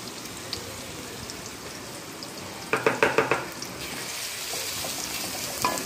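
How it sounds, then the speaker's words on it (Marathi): Sliced onion frying in hot oil in a kadhai, a steady soft sizzle throughout with a brief louder crackling burst partway through as the pieces are stirred, close and without voices. "त्यामध्ये आता मोठा कांदा उभा चिरून घ्यायचा आहे आपल्याला। तो लालसर होईपर्यंत परतून घ्यायचा आहे"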